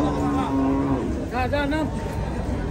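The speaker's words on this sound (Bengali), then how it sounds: "পিছনেটা খুবই আক্রমণাত্মক গরু" Beef cattle at a village cattle market in Comilla, Bangladesh, with one cow lowing in a short drawn-out moo followed by wavering calls, set against a busy crowd murmur and people talking.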